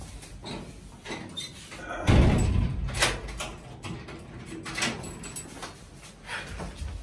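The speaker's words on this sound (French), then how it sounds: "Va fermer la porte." A door is pushed shut with a loud thud, followed by scattered knocks and rattles in a room, with faint voices in the background.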